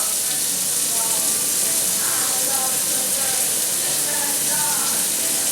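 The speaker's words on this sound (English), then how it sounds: "We're going to let that fry up first before we do anything else." Chopped onion frying in a pan, a loud continuous sizzle and hiss with faint bubbling crackles, steady throughout with no talk.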